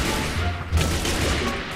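Rapid gunfire from a gun in a Minecraft zombie survival game, a dense run of shots firing quickly and steadily with no talk over it.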